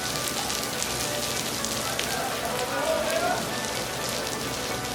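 Thunderstorm rain drums on a surface with a dense, steady patter at an outdoor race event, where teams shelter in garages from high winds.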